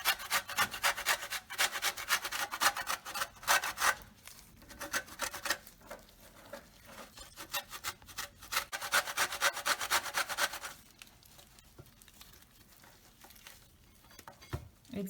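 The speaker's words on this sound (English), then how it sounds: "Now we will grate the orange peel in the wet ingredients." Orange peel rasped on a grater over wet chocolate cake batter, a close run of quick scraping strokes that comes in bursts with short pauses between them, no voices.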